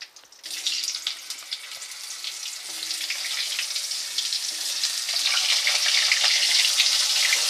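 Potato pieces frying in oil in a pan, following fried chicken for a moong dal chicken dish, give a steady hissing sizzle that grows louder and denser.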